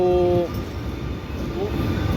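Train rolling into Dewara station on the Sheoraphuli–Tarakeswar line, a loud, continuous rumble with a fading horn-like tone at the start, heard from on board.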